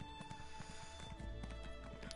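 A horse in a video game clip-clops along in a quick rhythmic gallop of hoofbeats, fairly close, with a brief whinny-like sound near the end.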